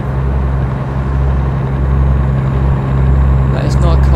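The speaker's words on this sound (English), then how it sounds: "This engine has a really weird hum to it." Truck engine in a truck simulator game, a steady low droning hum with slight wavering that runs throughout at high level.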